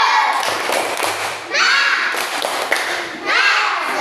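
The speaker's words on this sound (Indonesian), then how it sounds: "Beri tepuk tangan kelompok 4 bersama" Group of schoolchildren applauding together in an Indonesian classroom, a dense burst of rapid hand clapping that swells, pauses briefly, then returns in two more loud waves, with some voices mixed in.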